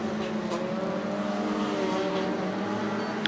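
Short track race cars running on an oval racetrack during a super short track series race, engines droning steadily with layered harmonic whine throughout, no talk.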